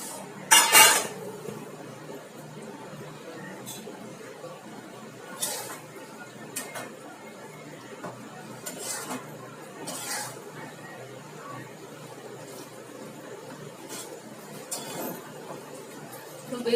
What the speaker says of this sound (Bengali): এবার আমি বেগুনগুলোকে দিয়ে দিচ্ছি।